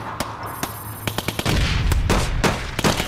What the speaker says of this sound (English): It's made out of gunshots. Gunshots on the beat.